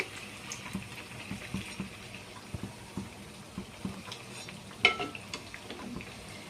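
Mysore bonda dough balls fry in hot oil with a soft, fairly quiet sizzle, broken by light scrapes and small knocks from stirring and a sharper clink near the end.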